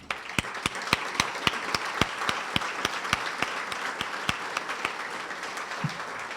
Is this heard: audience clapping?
yes